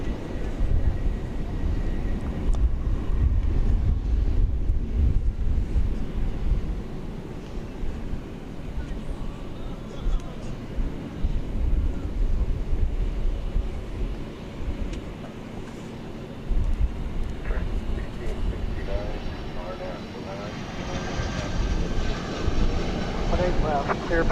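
An airplane on approach to DFW Airport drones as a broad, steady roar that dips midway and swells again toward the end, heard from a distance under faint voices.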